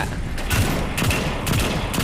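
Bursts of rapid gunfire from the video game World War Heroes repeat about every half second, with dull booming thumps under a steady background of battle noise.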